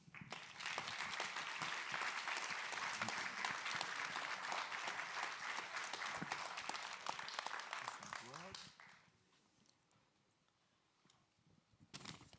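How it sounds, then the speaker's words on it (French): An audience claps warmly for about eight and a half seconds to welcome a guest to an evening interview event, a loud dense wash of applause that fades away, then near silence with a brief stir at the end. "je vous demande d'applaudir chaleureusement Véronique Drouin."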